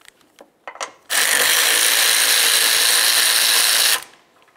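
A ratchet spinning steadily for about three seconds while loosening a 10mm nut on a 2007-2012 Nissan Sentra, loud and close, preceded by a few faint clicks.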